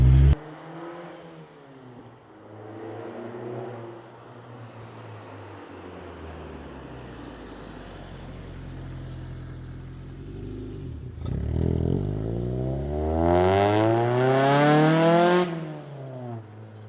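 A Honda CR-X engine revs toward its roughly 7,000 RPM redline, climbing through a long wailing pull, settling, then screaming up again near and loud before dropping off.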